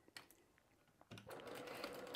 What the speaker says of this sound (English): Come on over to my sewing machine, and we're just going to do a quarter inch seam allowance right now.